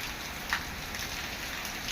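Heavy monsoon downpour with strong wind in Porbandar: a dense, unbroken hiss of rain pouring onto surfaces, steady and fairly soft, with a couple of slightly louder splashes.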